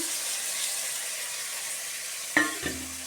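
Spice paste hitting hot oil for a vegetarian dal, a sharp sudden sizzle bursting out over steady background hiss, then a second smaller spatter.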